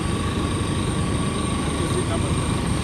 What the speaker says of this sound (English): that's the jet that we're going to be using